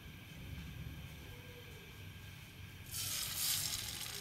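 Bread slices topped with a chicken mixture are laid one by one into hot oil in a frying pan, starting a bright, loud sizzle partway through over a low background hum.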